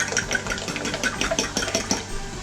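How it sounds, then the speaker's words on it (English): Twelve eggs are whisked in a bowl, a fast, steady clatter of a whisk against the bowl with rapid, even strokes heard up close and alone. "We're going to whisk up our eggs."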